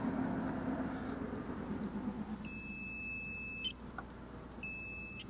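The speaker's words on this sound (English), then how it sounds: "this gives a little audible beep when you tag the water level here." Geoprobe water level meter probe beeping as it touches groundwater in a monitoring well, two clear electronic beeps, the first about a second long and the second shorter, over a low background rumble.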